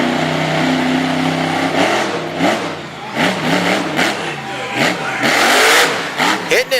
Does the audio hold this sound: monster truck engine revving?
yes